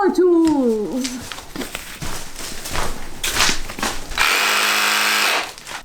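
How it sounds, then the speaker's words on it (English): Power tools strip old painted wooden window trim during a house renovation, a loud buzzing whine that starts and stops in bursts, with someone speaking briefly at the start and a sustained harsh grinding near the end. "It's time for the power tools!"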